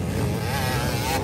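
An enduro racing motorcycle engine drones at high revs during a local enduro final heat in Poblacion, Quezon, a steady loud buzz with no break.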